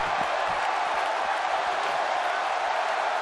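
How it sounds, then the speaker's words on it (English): A virtual wrestling arena crowd in WWE 2K18 roaring and cheering in a steady, dense wash of noise for a Rob Van Dam match, loud and continuous. "by the sound of this crowd, I think they're getting what they wanted"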